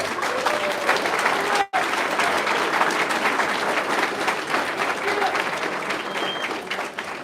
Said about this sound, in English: If y'all would help me give all of these people a round of applause for being here.